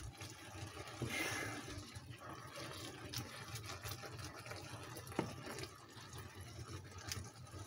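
Liquid poured off cooked ground beef, a faint, steady trickling and splashing of fluid with a few small knocks, heard alone without speech.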